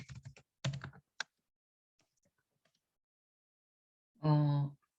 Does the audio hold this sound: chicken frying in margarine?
no